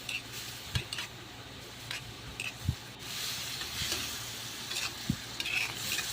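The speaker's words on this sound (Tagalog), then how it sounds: "Haluin lang natin." Chicken afritada stirred in a pan with bay leaves and pepper, a spoon scraping and clacking against the metal in a few distinct knocks over a steady soft frying sizzle, close and fairly quiet.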